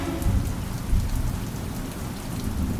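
Steady rain sound effect in a spy story set in Rome, heavy and continuous with low rumbling like distant thunder, loud and alone without speech.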